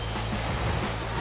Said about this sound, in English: Really good waves.